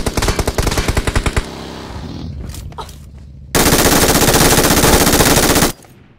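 Rapid automatic gunfire in the PUBG Mobile video game, loud and close, with a burst of single shots followed by a long sustained stream of fire that cuts off abruptly.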